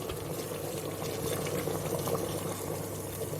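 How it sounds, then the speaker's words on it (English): Water pouring into a pressure cooker over lamb and potatoes for a curry, a continuous bubbling, gurgling splash at steady close volume with no speech. "I'm going to add enough water just to cover the meat and the potatoes"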